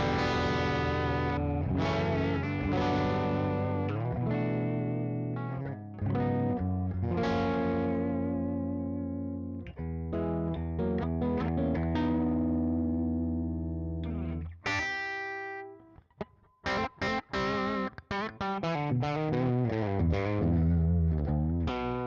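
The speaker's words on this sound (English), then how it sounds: "that's through the quad cortex. That's the Vox AC15, the default or the built-in model" Electric guitar played through a Quad Cortex on its built-in Vox AC15 amp model, ringing chords and melodic lines with a lightly driven, roomy tone, steady for about fifteen seconds, then choppier bursts and picked notes, no talk.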